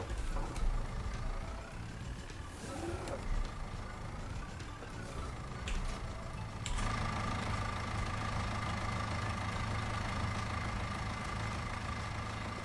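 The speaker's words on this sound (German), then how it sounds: "Wenn wir gleich mal mit der Nase in den anderen Traktor einsteigen und alle einschalten," A tractor engine runs in the farming simulation game Irgendwo in Thüringen, with a steady mid-pitched idling rumble and knocking throb that holds constant and thickens slightly after a brief shift, with no talk over it.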